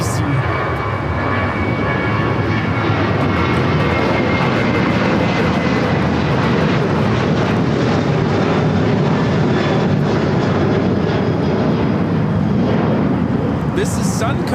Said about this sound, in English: This is Sun Country Airlines Flight 8711 taking off to Austin on the 737-800.